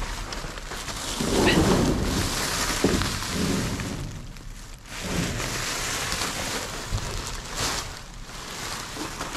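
Rain falls steadily outdoors beside a dumpster, a dense wet hiss with deeper rumbling swells that come and go, heard alone without talk.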